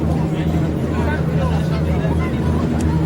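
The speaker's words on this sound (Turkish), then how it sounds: "Kadıköy'e giden yolcu vapuru" A passenger ferry bound for Kadıköy, Istanbul, drones with a low, steady engine hum close by, joined by soft wash and faint surrounding noise.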